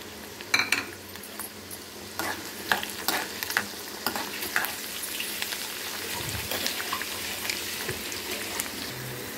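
Dried red chillies and green chillies crackle and fry in hot oil for pulihora, with a steady sizzle and sharp pops and stirring scrapes near the pan, and no talking.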